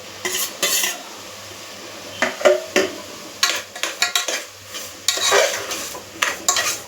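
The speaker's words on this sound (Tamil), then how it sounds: "தக்காளியை போட்டு நல்லா மிக்ஸ் பண்ணிவிட்டு வதங்கி வரட்டும்" Tomatoes and onions sautéing in a pan, stirred with a utensil that clatters and scrapes against the metal in repeated bursts over a soft sizzle, close by with no talking.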